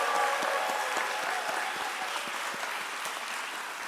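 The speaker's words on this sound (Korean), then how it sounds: "네, 우리 다시 한번 뜨거운 박수 보내주시기 바랍니다." Audience applause at a seminary chapel service, steady dense clapping from a mid-sized crowd filling the room without pause, a few sharper claps standing out near the front.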